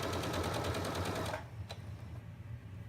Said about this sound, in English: I'm going to stitch all the way across the bottom until I come to the other side of the bottom piece